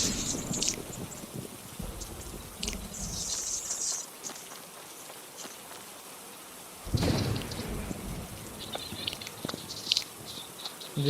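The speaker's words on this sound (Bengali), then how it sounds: "বৃষ্টি কমবে না এখন।" Rain patters steadily in the video game Party Craft while thunder rumbles and cracks, with one loud close crash midway among softer rolls, no talking.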